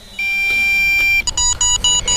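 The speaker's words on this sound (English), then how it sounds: "You do get an audible beep when you are running out of battery" Loud electronic low-battery beeping from an MJX Bugs 8 quadcopter controller, a long steady tone followed by a series of short repeated beeps in a quick pattern.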